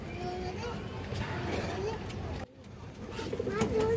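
Pigeons coo in a low, repeated rumble at close range in a busy loft, with a few brighter bird calls and someone talking over much of it.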